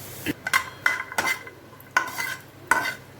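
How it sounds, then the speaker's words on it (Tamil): Cashews being roasted in a pan for spicy mixed nuts, a spoon scraping and clinking against metal in several quick strokes over a faint sizzle. "அடுத்து முந்திரியை வறுத்து எடுத்துக்கலாம்"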